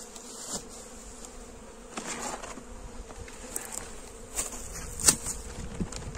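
Honey bees buzz steadily during a hive transfer, a dense, fairly close hum throughout, with a few individual bees zipping past the microphone.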